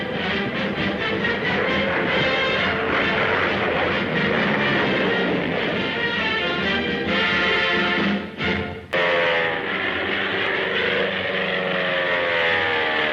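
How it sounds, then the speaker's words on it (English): A Lockheed P-38 Lightning, the twin-propeller World War II warplane, drones steadily and loudly in flight, its engines making a dense, continuous roar that holds evenly across the recording. "Twin propellers turning"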